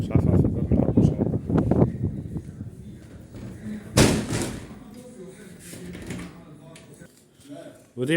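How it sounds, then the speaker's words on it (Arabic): Apartment door in a seaside flat slammed shut with a sharp thud partway through, after someone talks and amid some wind noise. "مش عارف اقفل الباب من الأول، مش عارف."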